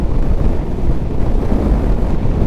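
Steady, loud wind buffeting a microphone while riding a 2024 Honda ADV 160 scooter at speed, a dense low roar that stays constant throughout with no voices.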